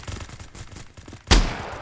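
Shotgun fire in a SOCOM-style multiplayer shooter game, a single loud close blast that cuts through a busy backdrop of distant gunfire.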